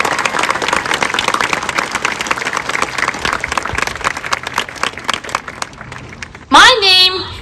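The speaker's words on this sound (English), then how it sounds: "Join me in giving a big round of applause for them" A graduation audience at Penn Trafford applauds faculty and staff in a steady, dense roll of clapping that fills most of the stretch, fades near the end and gives way to a loud, close burst of shrill whoops.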